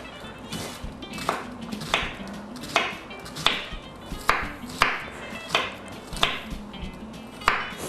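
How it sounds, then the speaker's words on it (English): A knife chops a yellow onion on a cutting board, with about a dozen sharp, evenly spaced knocks at a steady moderate rhythm, close and clear. "I'm going to just cut up, this is just a yellow onion."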